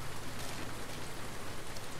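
Steady rain in The Last of Us Part II, a constant broadband hiss of falling drops that fills the whole moment evenly without pauses, heard close and alone.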